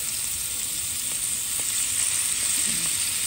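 Abalone and scallops sear in a hot pan with a steady, loud sizzle, a dense crackling hiss that runs unbroken throughout with no one speaking.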